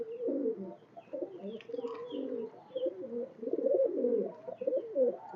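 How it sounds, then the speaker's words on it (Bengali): Saharanpuri blue pigeons cooing close by in a steady, overlapping stream of low, throaty calls, with faint chirps higher up. "এটা সাহারানপুরি নীলা কবুতর"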